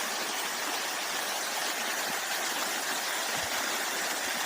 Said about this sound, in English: Beautiful waterfall. It's usually much bigger than that though.